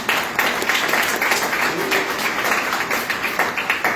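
A church congregation applauds together, giving a steady, fairly loud wash of many hands clapping with a rhythmic pulse throughout and faint talk underneath.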